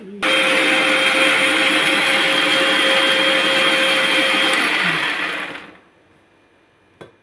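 A mixer grinder whirs loudly and steadily while grinding spice powder, holding an even high-pitched motor roar for several seconds before winding down and stopping, followed by a brief clunk.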